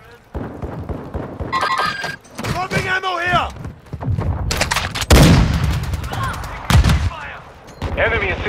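Intense gunfire in the Modern Warfare video game: repeated shots and bursts, close and loud, mixed with shouted voice lines and battlefield effects throughout.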